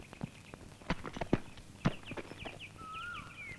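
Horse hooves clip-clop in a few sharp, spaced knocks amid a comedy scene, with faint chirping and a thin whistle-like tone in the background; no talk.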